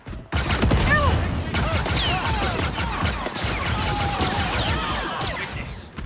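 Dense, sustained blaster gunfire aimed at stormtroopers in Star Wars Outlaws, a loud continuous volley with crashing impacts, some whistling shot sounds and faint voices underneath.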